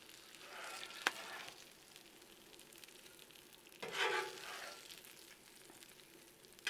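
Burger patties frying on a Blackstone griddle give a soft, steady sizzle with a sharp clatter near one second and a louder burst of spatula scraping and hissing around four seconds.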